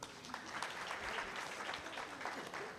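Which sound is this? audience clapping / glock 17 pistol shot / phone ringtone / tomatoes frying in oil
audience clapping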